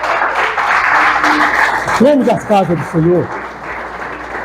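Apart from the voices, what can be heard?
church congregation applauding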